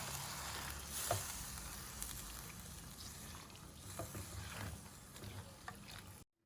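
Sweet potato simmering in water in a pan, a steady soft sizzle and bubbling hiss running evenly throughout with a few faint clinks, no talking.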